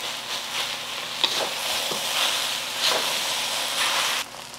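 Eggs stirred into frying pineapple fried rice with chicken, a loud, steady hiss and sizzle from the hot pan, close up, punctuated by a few scraping stirs and knocks of a utensil.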